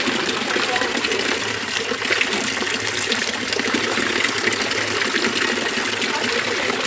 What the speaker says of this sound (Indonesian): Kita langsung minum aja dari pancuran ini ya.